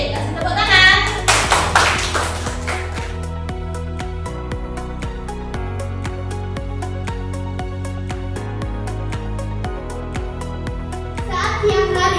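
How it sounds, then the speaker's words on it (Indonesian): Children in a classroom clap along over steady backing music with a regular beat, and young voices chatter and shout at the start and near the end. "Oke, kasih tepuk tangan."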